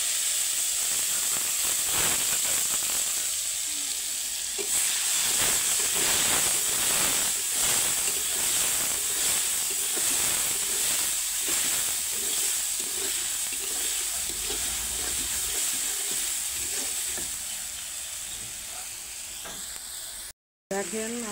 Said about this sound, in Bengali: এই যে মশলা কষে নিয়েছি।